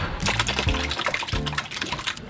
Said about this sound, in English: I just poured half their feed right now